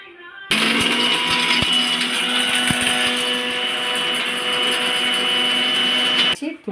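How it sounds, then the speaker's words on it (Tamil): Kitchen mixer grinder pulverising a batch of whole spices into powder for mutton biryani, a loud steady high-pitched whirring that starts suddenly, runs for about six seconds with faint rattling, then stops. "இதையெல்லாம் மொத்தமாக போட்டு மிக்சியில் போட்டு அரைச்சி தூளாக்கி எடுத்து வச்சுக்கிடணும்"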